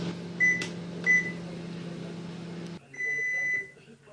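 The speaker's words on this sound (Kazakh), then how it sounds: "оны 30 секундқа қойып микроволновка жылытамыз" A microwave oven heats margarine for 30 seconds, humming steadily at close range with two short beeps early on, then a shift to a different drone and a longer tone before it stops.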